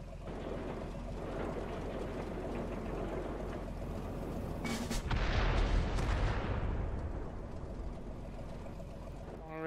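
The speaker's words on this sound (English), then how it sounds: "Long-range artillery from your team can quickly destroy even the biggest tanks." Artillery fire in World of Tanks booms out with a deep, rumbling blast that swells to a peak and slowly decays, set against continuous low battle noise.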